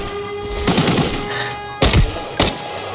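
Automatic gunfire in a shooter video game, an RPD machine gun with a 100-round level 5 magazine in Arena Breakout: a rattling burst followed by two sharp, loud shots standing out over a steady game background.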